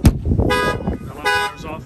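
A 2022 Ford F-450 car alarm with a shock sensor sounds in short electronic bursts that come and go, close by, with a thump on the window and some talking mixed in.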